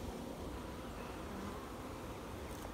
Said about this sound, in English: The bees will kind of settle down and go back into the hive